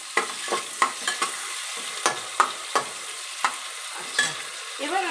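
Chopped tomatoes go into a cooker of chicken curry, frying in oil with a steady low sizzle while a spoon stirs and scrapes in sharp, irregular clatters roughly every half second, close and fairly loud, with no talking.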